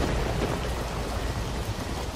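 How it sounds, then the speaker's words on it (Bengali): Heavy rain at night, a dense unbroken downpour with low rumbling beneath, loud and steady throughout, no voices. "বৃষ্টি পড়তে শুরু করলো টিপটিপ করে। তারপর ঝমঝম"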